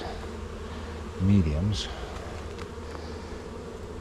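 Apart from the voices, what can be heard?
honey bees buzzing around bee hut hive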